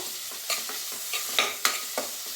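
Onions frying in a pan, a soft continuous sizzle broken by a few light scrapes and stirs of a spoon.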